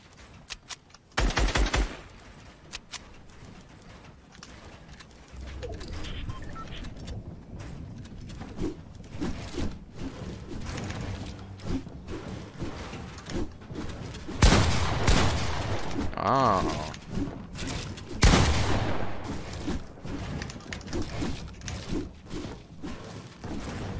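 Gunfire in the battle royale shooter PUBG, a solo match: sharp bursts and rapid cracks of shots, some near and loud, others thinner and farther off, scattered through the stretch over steady game noise.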